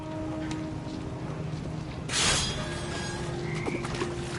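Toads croak in the game What Remains of Edith Finch over a steady ambient bed, with a brief rushing swell midway and a few scattered low croaks toward the end.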